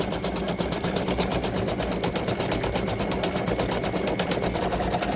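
An embroidery machine stitches a freestanding lace turkey pendant on wash-away stabilizer, giving a fast, steady, close mechanical rattle of rapid needle strokes that runs continuously with no talk.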